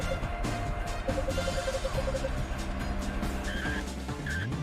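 A vehicle in the video game Fossil Fighters Frontier drifts and pivots, with a steady engine drone and squealing, skidding tires, close and continuous.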